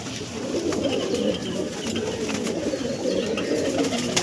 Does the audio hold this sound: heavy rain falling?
no